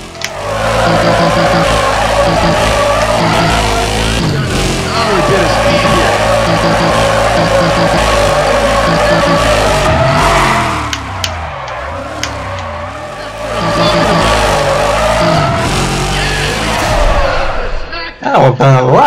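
A race car drifting in Need for Speed ProStreet at Autopolis, with a loud sustained engine whine, revving and screeching tyre skids running almost continuously, briefly easing off before surging again.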